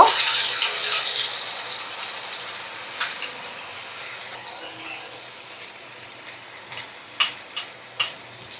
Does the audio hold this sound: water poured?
yes